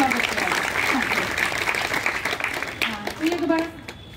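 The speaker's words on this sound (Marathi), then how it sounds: "तुझ्या ह्या स्वप्नांना सगळ्यांनी टाळ्या वाजवून तिच्या स्वप्नांचं स्वागत करावं" Audience at a school guidance session breaking into applause, a dense wash of hand clapping that swells and then thins out, with voices speaking over it.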